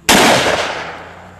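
A single loud, close shotgun blast fired at a skeet target outdoors, with a sharp crack that rings out and fades over about a second.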